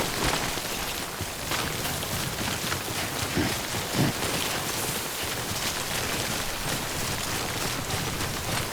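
Steady timefall rain in the video game Death Stranding, a dense even hiss of falling rain that runs unbroken from start to finish, with a couple of faint low knocks partway through.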